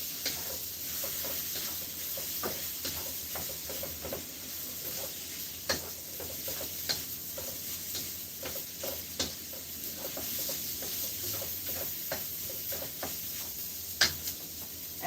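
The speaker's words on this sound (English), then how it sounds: "And then I'm going to be adding my rice gradually. So let's add some rice. So you want to stir this in." Rice is stirred into a hot pan on the stove for a spicy mango cilantro lime dish, with a steady soft sizzle and hiss under scattered scraping and clicking strokes of the spoon, close and quiet, with no talking.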